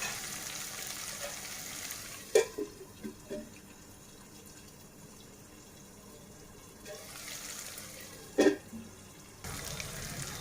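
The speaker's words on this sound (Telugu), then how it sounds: "ఇవి కూడా ఒక 2-3 నిమిషాలు ఈ ఆయిల్లో మగ్గేంత వరకు మనం మగ్గించుకుందాం" Drumstick vegetable pieces cook in oil for a mutton and drumstick curry, giving a faint, steady sizzle, interrupted by a few brief clinks and scrapes of stirring.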